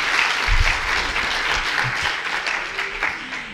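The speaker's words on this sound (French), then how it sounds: "On peut applaudir la directrice de l'école." Audience in a school hall applauds the school director with steady, dense clapping that holds throughout and slowly tapers, with no talk over it.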